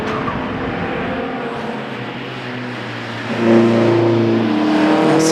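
A race car at an Oulton Park Tuscan Challenge round drives into the pits, its engine a steady loud drone that rises in pitch and volume partway through, close and unaccompanied by talk.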